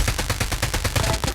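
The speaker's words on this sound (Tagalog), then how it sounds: "at nagbabaril-baril na po sila dito" Rapid automatic gunfire from a battle royale shooter match, a dense run of sharp, evenly spaced bursts repeating for over a second at fairly close range, with no talk over it.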